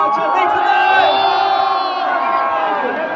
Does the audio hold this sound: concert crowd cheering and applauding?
yes